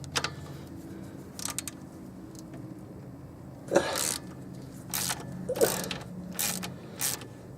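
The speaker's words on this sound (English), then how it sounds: "have our Milwaukee, we're gonna loosen it with a wrench" Wrench loosening 14 mm starter bolts on a 1991-1996 Chevrolet Caprice, with scattered bursts of ratcheting clicks and metal scrapes close by under a low steady hum.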